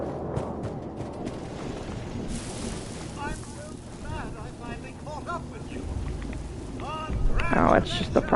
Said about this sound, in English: Oh, we got a rad storm over here.